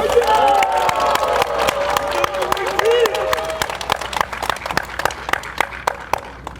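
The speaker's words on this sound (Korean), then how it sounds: "큰 박수와 뜨거운 함성으로 맞이해 주시기 바랍니다." Crowd at an Incheon political campaign event applauding and cheering a preliminary candidate, dense clapping and shouts with voices mixed in, thinning toward scattered claps at the end.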